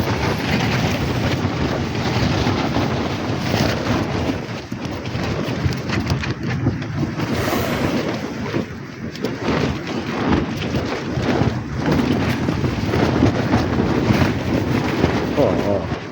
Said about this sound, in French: C'est plus fort qu'hier, le vent.